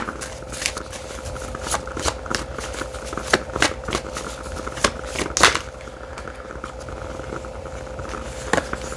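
A deck of red tarot cards being shuffled, with soft, steady riffling and patter running throughout and a few sharper card snaps standing out, close and fairly quiet with no talk.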